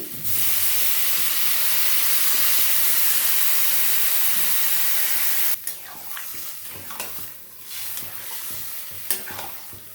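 Water hits a pan of fried potato and greens stalks for a rohu fish curry, first a loud rushing hiss of steam for several seconds, then dropping abruptly to a lighter bubbling sizzle with scattered stirring clatter.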